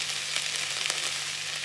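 Chopped onion sizzles and fries steadily in a pan for a Spanish omelette, a soft, continuous hiss with faint crackles and no talking.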